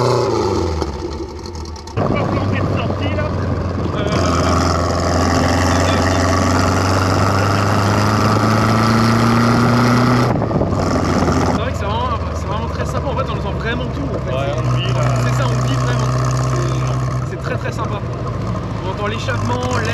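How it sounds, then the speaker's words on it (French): A Lotus Seven runs close by, its engine, exhaust and transmission rising and settling in sustained revving tones with pitch climbing and dropping between gear changes, loud and continuous, while a person talks over it. "L'échappement, l'air, la transmission. C'est ça, on entend vraiment tout ça"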